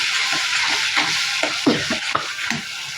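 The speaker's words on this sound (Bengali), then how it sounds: "হালকা পানি দিয়ে ভালো করে কষিয়ে ফেলবো, মরিচ মশলার গ্রান্ডটা যাতে চলে যায়" Spice masala with a splash of water, sizzling in a pan while being stirred, a steady close hiss broken by scattered scraping knocks of the spoon.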